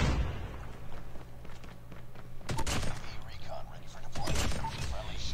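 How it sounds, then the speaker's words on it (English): Shotgun blasts from BY15 slug rounds in a first-person shooter, a few heavy booming shots spaced a couple of seconds apart over game ambience, with a voice talking quietly. "That was a slide cancel shotgun kill."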